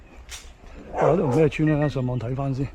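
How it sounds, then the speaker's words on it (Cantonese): A dog at a village near Ho Sheung Heung in Hong Kong's New Territories barks and yelps nearby. The barks come in a few quick bursts, overlapped by people talking. "呢條狗係咁衝，係咁吠啊！"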